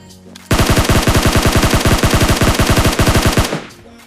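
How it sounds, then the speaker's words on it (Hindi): Automatic gunfire from a battle royale video game, a long rapid burst of roughly thirty loud evenly spaced shots lasting about three seconds, close and alone without talk, then cutting off. "इतने में पीछे से कुछ ज़्यादा ही फायरिंग साउंड आ रहे होते हैं"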